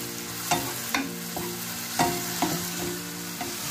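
Baby corn and ginger stir-fry with softened tomatoes in a pan, a soft steady sizzle punctuated by evenly spaced spatula strokes and light scrapes, close and unaccompanied by speech.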